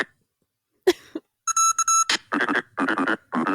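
Synthesized frog character effect from a video game: a brief croak-like blip, then a bright beeping electronic tone sequence and several rapid, rhythmic gurgling bursts, loud and alone.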